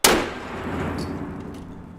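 A single sharp, loud blast from an explosive set off in water, hitting at once and then washing out into a long rumbling, splashing decay.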